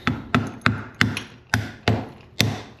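Seven sharp, evenly spaced taps of a rubber mallet seating a snap ring during a motorcycle suspension service, each a dull knock that fades quickly, with no talking.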